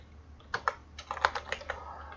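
Keys clatter on a computer keyboard while HTML and JavaScript code is typed, a quiet uneven run of about a dozen close taps in short bursts over a steady low hum.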